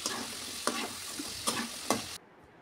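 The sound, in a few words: potatoes frying in oil for French fries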